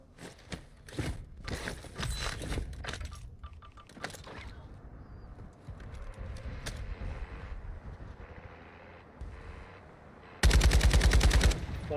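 Rapid bursts of RPK machine gun fire in a video game, loud and sharp, with scattered footsteps and movement between volleys and a dense final burst.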